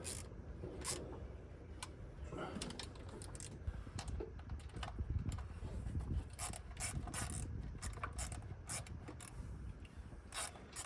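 Bolts are being snugged down by hand with a ratchet while a starter solenoid is fitted to a Squarebody truck, making quick, close, repeated clicking bursts with pauses between turns.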